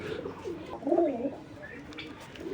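A pigeon gives a short, soft, low coo near the middle, fairly close but quiet, over faint background noise.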